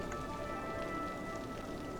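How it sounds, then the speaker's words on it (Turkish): Quiet, steady rain in the video game Cities: Skylines patters softly in the background, a faint continuous hiss with scattered drops and no voices. "Yağmur yağıyor değil mi?"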